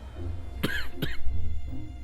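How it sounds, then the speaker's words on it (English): Two sharp coughs close to the microphone in quick succession, followed by low background hum and a faint throat sound. "I'm trying not to talk because I have this stupid cough."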